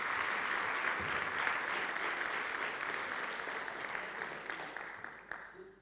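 A room full of people applauding at a talk on recovering from addiction: sustained, even clapping that carries on throughout and tapers off near the end, with no voice over it.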